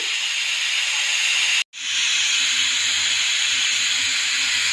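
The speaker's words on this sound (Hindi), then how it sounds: "कुकर प्रेशर की सब स्टीम निकली है।" A steady, loud hiss of steam rushing out of a pressure cooker, continuous and close, with a brief near-silent dropout partway through before the hiss resumes.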